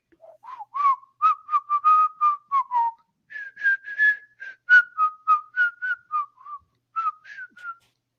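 A person whistles a melodic tune alone, in two phrases of quick, clear notes separated by a brief pause, close and fairly loud.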